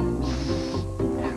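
A voice imitates the letter S with a sustained hissing sound, near and clear. It runs just over a second with a brief break near the end.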